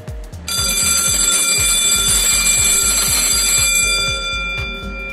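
A loud fire alarm bell on a Tornatech Vizi Touch electric controller rings continuously for several seconds during a test with a rapid metallic clatter, close and piercing, then cuts off abruptly.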